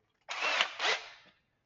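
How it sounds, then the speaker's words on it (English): A power drill fitted with a 1/4 bit bores into a Subaru engine part to prepare it for a helicoil repair, giving one steady whirring burst of about a second with a slight change in pitch midway. "And so I have to drill it with a 1/4 drill bit."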